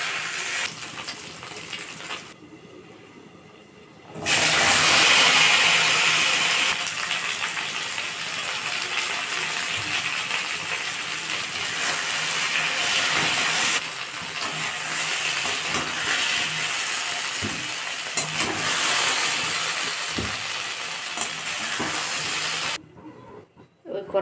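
Taro pieces frying in hot oil in a pan just after fish has been fried, a steady loud hiss and crackle that runs continuously from about four seconds in after a quieter start.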